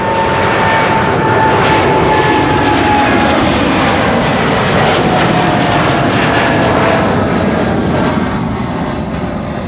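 A jet airliner departing from Amsterdam Schiphol's Kaagbaan runway 24 roars loud and steady for ten seconds, a broad engine rumble with a faint whine riding on top and no voices.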